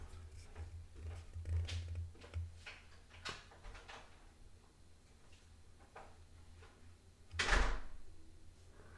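Door and footsteps of someone moving around a house, with faint bumps and shuffles at middle distance and one sharper, louder clunk near the end, against a quiet room.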